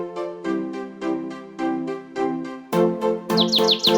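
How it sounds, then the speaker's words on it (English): A little bird chirps in an animated nursery rhyme, a steady series of bright repeated calls over a sung melody with music, loud and close. "Once I saw a little bird come hop, hop, hop."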